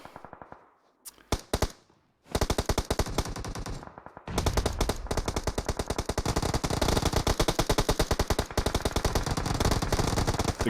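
Automatic weapons fire in a PUBG video game match, opening with a few scattered shots before breaking into long, dense bursts of rapid gunfire that continue to the end.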